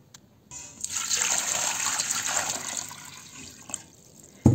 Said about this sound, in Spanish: Ahora en una olla voy a agregar agua